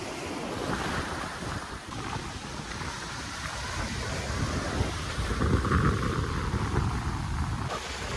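Sea waves wash in at a beach in Goa, with a continuous rushing surf and wind buffeting the microphone, swelling louder toward the end.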